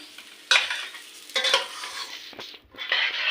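Onions fry in a pan over a low gas flame while a spatula stirs them, sending out three bursts of close sizzling and scraping separated by quieter simmering gaps.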